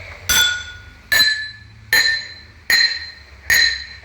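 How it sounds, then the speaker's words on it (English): Drinking glasses struck one after another, five bright ringing clinks spaced evenly about a second apart, each with a short decaying tone, close and clear with no talking. "I'm now going to tap these glasses once more, and I want you to listen out to the sounds they make."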